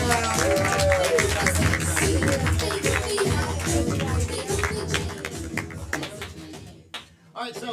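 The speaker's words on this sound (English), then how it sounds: "get a roll of applause in" An audience at an improv comedy show claps and cheers in a dense burst of applause that thins out and fades away toward the end.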